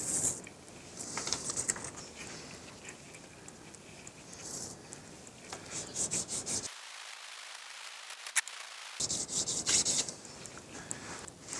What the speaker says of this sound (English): I'm gonna sand this just a little bit more.